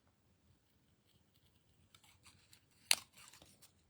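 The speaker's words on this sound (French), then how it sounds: "Là, je viens juste enlever un petit peu de blanc. Comme ça. Avec mes ciseaux." Scissors trim excess white from the edge of a handmade paper card. Faint paper rustling is followed by one sharp, close snip and a few softer cuts and handling sounds in a quiet room.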